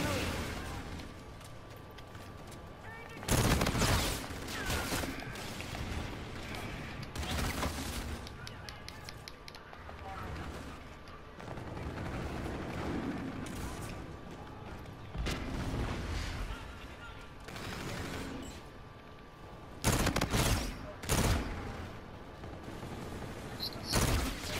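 The R3K gun fires in the game Call of Duty: Infinite Warfare in several loud bursts separated by quieter stretches, with a voice talking over parts of the action.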